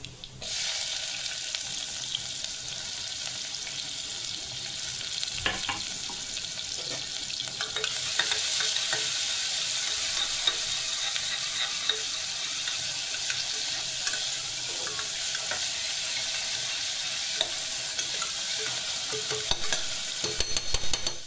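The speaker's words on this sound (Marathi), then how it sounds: "त्यानंतर जिरं टाकणार आहे, कांदा," Cumin, onion and whole spices fry in a pan for a mutton curry, a steady broadband sizzle that swells louder partway through, with occasional stirring scrapes and no voices.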